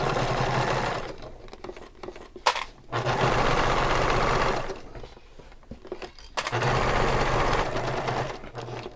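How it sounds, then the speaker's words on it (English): A sewing machine stitching a seam through thick layers of vinyl for a handbag, running in two long close bursts with a shorter stretch before them, separated by pauses filled with faint handling noise. "I just went and I did another seam right along close to the first"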